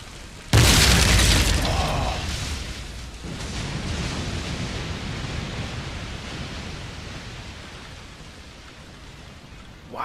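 Heavy frigate exploding in a naval battle in Empire Total War, a sudden loud boom followed by a long, rumbling, noisy decay that slowly fades.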